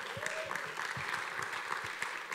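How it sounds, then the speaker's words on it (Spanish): Applause from an audience at a Bible study event greets a speaker taking the stage, moderate and steady clapping across the whole moment, heard somewhat distant and softly. "Un aplauso"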